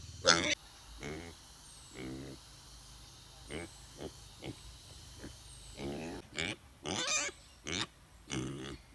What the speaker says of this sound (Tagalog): Hybrid pala tong baboy na to guys.